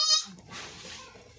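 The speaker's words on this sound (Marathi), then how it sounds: "मित्रांनो, आत्ताच आपली शेळी व्यायलेली आहे" A newborn goat kid, just delivered on a goat farm, gives one short, fairly faint bleat at the start, followed by quiet background noise.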